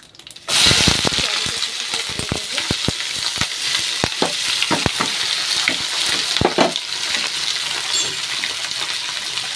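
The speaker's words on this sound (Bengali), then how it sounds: "তেলটা গরম হয়ে গেছে, দিয়ে দেবো শুকনো লঙ্কা, দিয়ে দেবো তেজপাতা, গোটা জিরে দেবো" Dry red chillies, bay leaf and whole cumin hit hot oil, bursting into a sudden loud sizzle that continues as a dense hiss sprinkled with sharp pops and crackles, close up.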